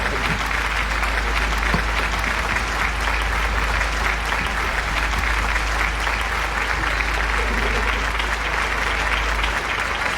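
Applause from a crowd at a Betawi celebration where a band is playing, with steady, dense clapping that stays even and loud for about ten seconds over a low continuous rumble.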